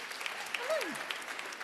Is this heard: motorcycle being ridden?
no